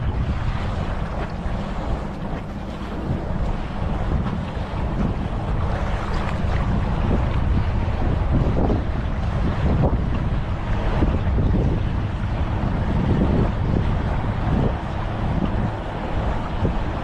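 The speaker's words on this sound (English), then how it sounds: "No, there's a boat." A motorboat runs out on Lake Mead near Hoover Dam, its low engine rumble blending with heavy wind buffeting and water slapping the hull, loud and continuous.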